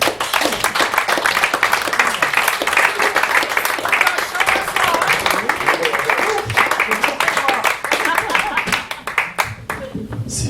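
Sustained audience applause after a stage performance at a variety evening, with dense, loud clapping that runs continuously for about ten seconds and thins out right at the end, with crowd voices mixed in.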